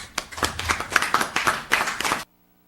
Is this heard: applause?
yes